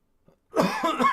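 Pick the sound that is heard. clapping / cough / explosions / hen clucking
cough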